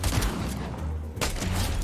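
Gunfire in the video game Fortnite, a rapid burst of shots followed by a brief lull and then another loud volley, close and punchy with no talk over it.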